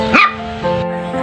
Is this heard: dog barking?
yes